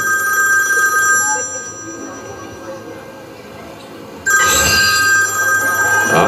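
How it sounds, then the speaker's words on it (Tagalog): A telephone rings insistently nearby, a bright repeating tone over a busy room, then a louder burst of noise cuts in partway through as people talk in the background. "saan yun? Telepono."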